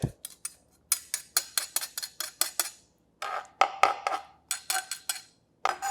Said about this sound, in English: So now we're gonna press some garlic.